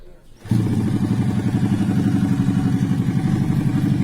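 A modified single-cylinder Honda Supra motorcycle engine starts abruptly after a brief quiet moment, then settles into a loud, close, deep chugging idle that pulses steadily to the end.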